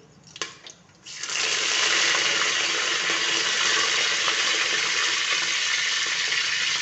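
Curry leaves, cloves, peppercorns and green chillies hit hot oil for a soybean pulao and erupt into a loud, steady, close sizzle after a brief clatter, crackling continuously with no talk.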